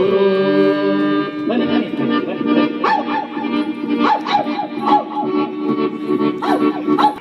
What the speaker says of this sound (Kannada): ಯಾರು ಹೊಸ ಜನ ಬರಕ್ ಬಿಡಕ್ಕಿಲ್ವಲ್ಲಪ್ಪ ಈ ಊರೊಳಗೆ ಹಾಳಾದ ನಾಯಿ